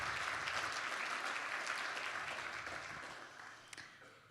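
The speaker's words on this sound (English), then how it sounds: "a round of applause to Stacy." A room full of people applauding, a dense steady patter of clapping that gradually fades toward the end.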